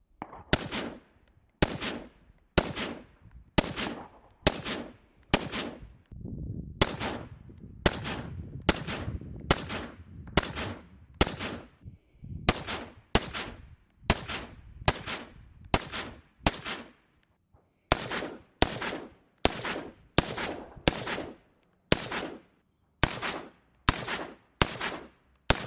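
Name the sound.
suppressed rifle gunshots, Dead Air Lazarus 6 and other suppressors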